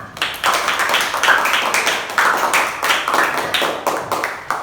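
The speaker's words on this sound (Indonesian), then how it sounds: "Tepuk tangan untuk kita semua" A class of schoolchildren clapping hands in a quick, fairly regular rhythm, close and loud, continuing throughout with no talking.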